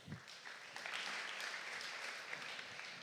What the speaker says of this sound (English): Give him a big applause, please